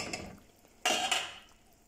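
Whole rinsed cherries drop into a pot of simmering hibiscus Christmas punch with a sudden clattering splash and metallic rattle, after a quiet stretch of faint kitchen noise.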